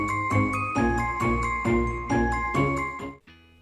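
Short tinkling channel intro jingle, a bright run of bell-like chimed notes in quick rhythm that ends with a brief fading tail.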